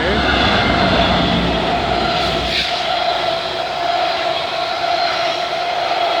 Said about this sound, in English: Okay, we got another GO train, 6:15.